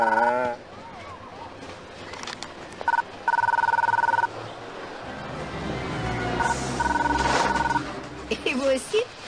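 An old-style telephone rings in repeated bursts, each a steady electronic trill, coming through over a dog's noises and someone speaking nearby.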